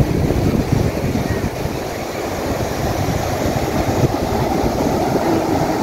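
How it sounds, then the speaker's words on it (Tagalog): Strong surf rolls in steadily at Big Wave Bay beach in Hong Kong, a loud, continuous wash of breaking waves with low rumble and no pauses. "Malakas talaga ang alon dito, kaya maraming nag-surfing."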